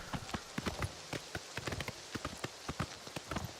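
Horse hooves clip-clopping at a steady trot in the Oblivion Remastered video game, a quick, regular run of sharp hoof hits, fairly close and moderately loud, with no talk over them.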